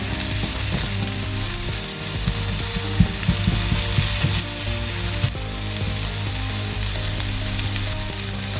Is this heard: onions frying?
yes